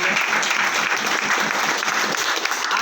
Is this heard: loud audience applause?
yes